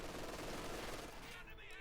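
An MG42 machine gun fires in Company of Heroes 2 in a dense, continuous rattle of rapid rounds, heard at a distance beneath a busy battle mix, with a caster talking over it.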